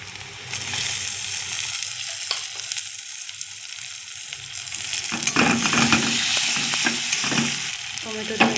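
Tomato sizzles in a hot pan over fried garlic and onion, with a continuous frying hiss that grows louder and busier midway as the pieces are stirred and scraped around.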